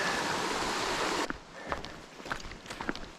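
Hellgate Brook, a mountain stream on a backcountry hike, rushes loudly and steadily for just over a second before cutting off, leaving quiet footsteps on a trail.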